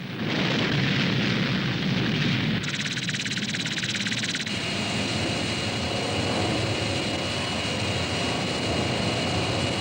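The vehicle Démon Noir exploding at sea: a loud, sustained roaring blast of broadband noise that shifts character partway through and keeps rumbling to the end, with no speech.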